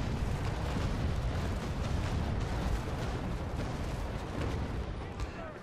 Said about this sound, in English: just coast gently while I fire off this broadside